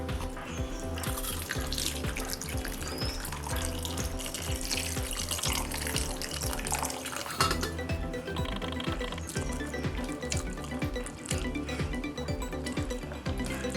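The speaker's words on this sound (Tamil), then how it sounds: "இப்போ தண்ணி ஊற்றி கொஞ்சம் அலசிக்குவோம்." Water is poured steadily over almonds in a bowl or sink to rinse them, a continuous close splashing rush that stays loud and even throughout.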